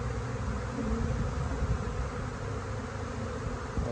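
Honeybees buzz steadily around an open hive, a dense, continuous low drone that stays fairly quiet and close throughout, with no voices.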